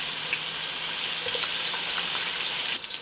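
Beef stir-frying for Mongolian beef, a steady close sizzle of meat in a hot pan with faint scraping and stirring throughout, no voices.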